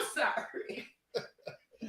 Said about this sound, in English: y'all got me laughing and coughing